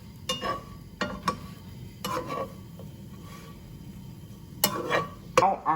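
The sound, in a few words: stirring a snack mixture with black pepper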